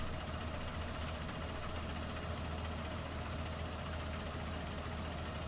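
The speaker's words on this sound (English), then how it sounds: "Yeah, this tractor's sweet. Can you hear it rumbling too?" A red Fendt tractor in a farming video game idles with a steady low engine rumble, continuous and even, faint and alone.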